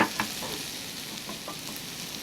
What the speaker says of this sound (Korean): 버섯을 넣어주시고 볶아주세요.